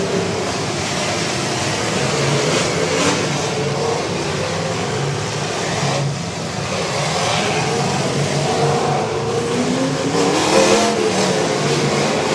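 Engines roar and rev continuously at a fall demolition derby in Fayette County, a dense, loud, steady wash of motor noise and outdoor rumble with surges but no clear pauses.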